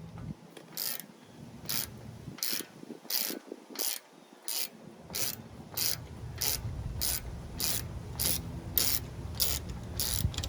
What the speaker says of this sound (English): The first thing you're going to want to do is loosen up this bolt here, and that's a 13 millimeter.